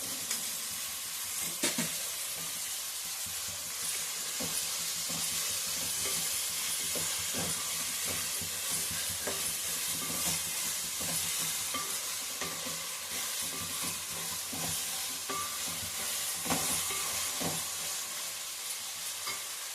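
Green peas with ginger-garlic paste sizzle and fry steadily in a pan, a continuous close hiss broken by frequent scraping stirs, with no talking.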